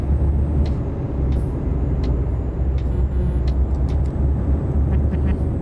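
A Kenworth truck engine in Euro Truck Simulator 2 holds a steady, deep, low rumble throughout, with faint ticks and hisses layered on top.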